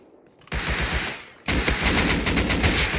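Loud, rapid automatic gunfire in the survival game Rust: a short burst, a brief gap, then sustained close shooting filling the rest of the moment with no talking.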